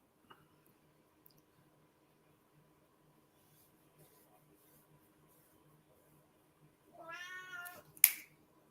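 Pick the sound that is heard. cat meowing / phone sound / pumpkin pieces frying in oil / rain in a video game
cat meowing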